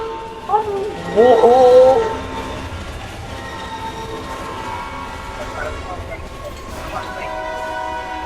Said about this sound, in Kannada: ಈಗ ಟ್ರೈನ್ ಶುರು ಆಗುತ್ತೆ